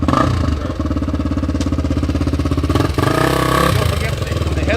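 A 2003 Honda XR250 dirt bike with a fresh engine build, Wiseco piston and hot cam, runs steadily and loudly up close through a drive-by, its single-cylinder thump dipping briefly before surging again, with voices faint beneath.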